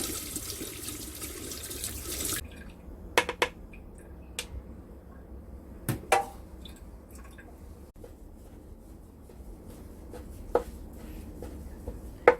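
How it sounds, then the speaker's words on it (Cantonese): Water from a kitchen tap runs loudly over fermented black beans being rinsed for a garlic black bean chicken wing dish, then stops, leaving faint clicks and drips. "豆豉洗乾淨佢，"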